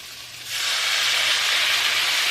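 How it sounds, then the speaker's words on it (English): Chicken broth hits a hot dry pan of Brussels sprouts and bursts into a loud, sustained steaming hiss, starting abruptly after a quieter moment and holding steady. "I'm going to add a couple splashes of some chicken broth. That's going to create some steam in here"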